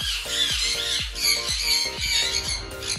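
A green ringneck parakeet pair in an aviary cage squawks in a rapid run of harsh, repeated calls, close and loud over a steady bright chatter of other birds in the background.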